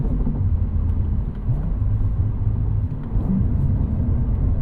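A Cadillac CT4-V Blackwing with a manual gearbox rumbles at low revs during a downshift, heard from inside the cabin as a steady, deep, moderately loud drone with small dips and swells in engine pitch and no voices.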